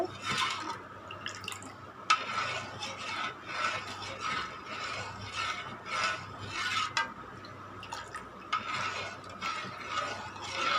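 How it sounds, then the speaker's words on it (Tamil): Black kavuni rice porridge being stirred in a pot over low heat: continuous scraping and clinking of a spoon against the pot, with soft wet bubbling and irregular knocks, close and fairly loud, no talking. "நல்லா கிளறி விட்டுட்டே இருக்கணுங்க, இல்லைன்னா அடியில் கட்டி ஆகிடும்"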